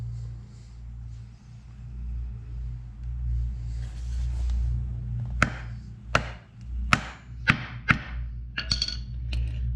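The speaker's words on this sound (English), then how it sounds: "so that I can hammer this through" Several sharp metallic hammer strikes ring out, driving a part through a Jeep door stop, spaced about a second apart and then quickening, over a low rumbling background.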